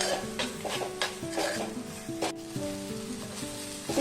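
Garlic and spices fry in a pan for a Kerala-style rasam, a continuous close sizzle broken by stirring clinks and scrapes, with a soft tonal hum underneath.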